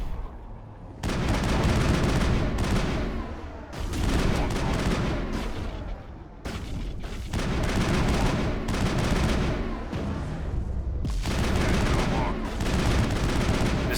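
Heavy gunfire rips through a Mass Effect firefight in long, loud sustained bursts separated by brief pauses, with a voice occasionally speaking underneath.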